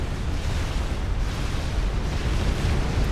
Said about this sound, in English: Explosions all over the place.